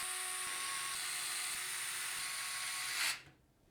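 A high-pitched electric driver whines steadily and close for about three seconds, running short screws through a 360 AIO radiator into the top of a PC case, then spins down abruptly to near silence.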